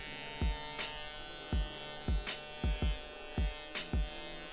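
Electric hair clippers cutting someone's own hair at home, guided with a comb: a steady buzzing hum with a string of sharp, regular bumps as the blades pass through the hair, close and fairly quiet.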